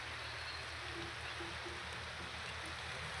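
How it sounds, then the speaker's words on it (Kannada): Heavy rain pours steadily in a dense, even hiss that fills the scene without a break, with a low rumble underneath and no voices. "ಮಳಿ ಅಂತೂ ಫುಲ್ ಭಯಾನಕ ಫುಲ್ ಜೋರು ಬರಾಯ್ತು."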